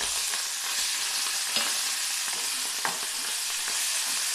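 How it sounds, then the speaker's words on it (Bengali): Prawns frying in hot oil in a pan make a steady, close hissing sizzle, with occasional soft clicks as they are turned over, and no voices. "মাছগুলো আমি উল্টে পাল্টে ভেজে নিচ্ছি"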